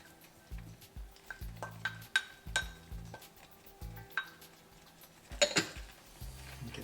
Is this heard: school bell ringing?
no